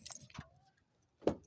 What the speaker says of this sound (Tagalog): Where's the susi?